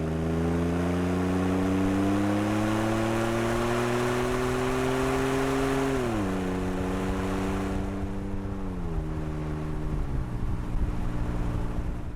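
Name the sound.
Magnaflow cat-back exhaust on Ford F150 2.7L EcoBoost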